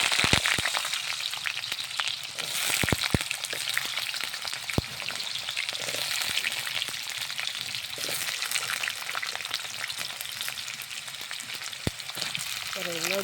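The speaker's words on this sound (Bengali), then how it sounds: "তেলটা গরম হয়ে গেছে, এখন আমি আলুটা দিয়ে দেবো।" Potatoes sizzling and crackling in hot oil in a pan, a steady close frying hiss with scattered sharp pops throughout and brief stirring scrapes, no talk over it.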